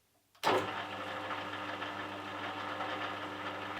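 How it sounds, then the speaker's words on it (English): An old restored drill press starts with a sudden onset and keeps running, a steady mechanical hum with its back gears rattling loosely throughout, moderately loud and close with no talk. "Most of the noise you can hear is coming from the back gears rattling around."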